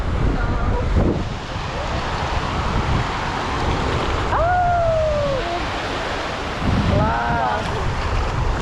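Sea waves wash onto a beach in Valencia, a broad steady roar of surf mixed with gusty wind rumble against the microphone and a few faint high cries rising above.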